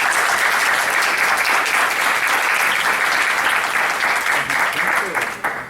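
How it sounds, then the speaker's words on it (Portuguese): An audience applauding after a talk, a sustained, loud, even roll of many hands clapping that carries on for several seconds and begins to thin out near the end. "Palmas."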